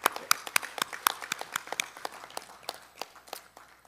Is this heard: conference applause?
yes